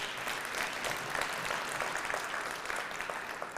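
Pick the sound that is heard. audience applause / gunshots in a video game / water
audience applause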